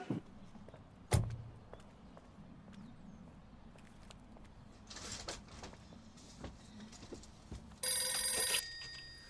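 A telephone bell rings in a family film scene, a burst of bright repeated ringing near the end, loud against a quiet room with a thud and faint movement earlier.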